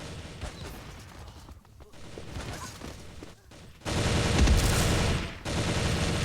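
Gunfire from the mobile shooter game Xshot, a port of the PC version: a dense stream of rapid gunshot bursts, loud and close, swelling into heavier sustained fire toward the end with no talking.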